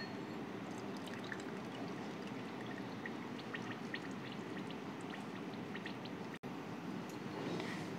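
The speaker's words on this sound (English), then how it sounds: "Now I'm going to mix this half cup of water to this 4 tablespoons of custard powder." Half a cup of water is poured into four tablespoons of custard powder in a cup, a soft, continuous trickle and faint splashing that stays quiet and even throughout, with no talking.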